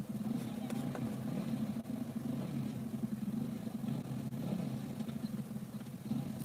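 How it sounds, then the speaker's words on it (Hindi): A motorcycle fitted as an ambulance pulls away, its mid-pitched engine hum running steadily and fairly faint throughout, with light background noise and no clear rise in volume. "और ये एम्बुलेंस चली।"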